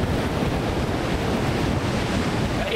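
Surf breaks on a plain sand beach with a continuous broad wash of waves, roughened by wind buffeting the microphone.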